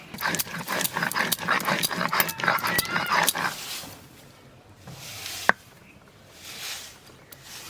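Spices ground by hand on a small stone pata slab in a home kitchen, a rapid series of gritty scraping and knocking strokes for several seconds, then quieter with a single sharp click before tapering off.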